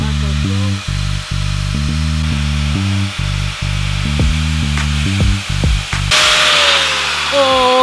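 A power tool fitted with a paper disc cuts through a plastic shovel in loud, close bursts of whining that start and stop repeatedly, ending in a rising, higher-pitched whir.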